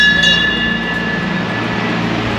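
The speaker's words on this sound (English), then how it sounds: "And there's a little train going by." A small tourist train rolls through a town square in Ponta Delgada in the Azores, giving a steady, moderately loud rumble with a faint high whine, and no voices over it.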